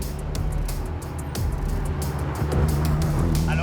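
A legendary Alpine sports car, the French marque that won the 1973 world championship, hums steadily while driving, a low engine drone with road and wind noise that swells slightly near the end.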